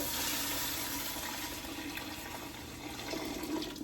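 Potato cooking water, about three and a half cups, poured into a soup pot of onion paste for ham and potato soup, a steady continuous splashing gush that runs loud and close for the whole stretch.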